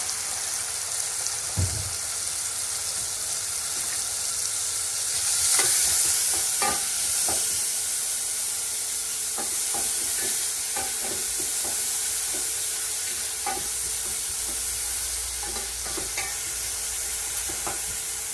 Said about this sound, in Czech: cibulka je smažená